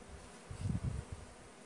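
Honeybees buzzing at the hives on a warm sunny day after rain, a low droning hum swelling briefly in a few close pulses, otherwise quiet.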